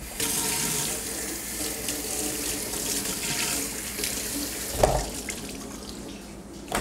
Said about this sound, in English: Now that we got that trimmed up, we do a quick rinse.